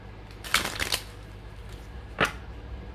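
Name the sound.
shuffling a deck of tarot cards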